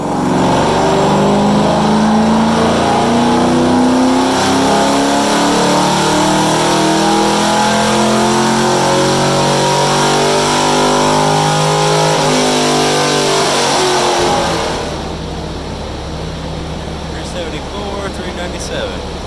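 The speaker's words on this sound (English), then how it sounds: "the third dyno pull came in, and with some extra timing" A car engine revs hard on a dynamometer pull, its loud rising roar climbing in pitch for about fourteen seconds before dropping away to a lower steady drone as the run ends.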